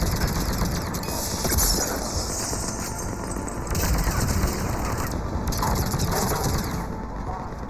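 Sustained gunfire in the sci-fi shooter Mass Effect 3 Legendary Edition, a dense, continuous fusillade of rapid shots and mechanical clatter that stays loud and busy throughout with no pauses.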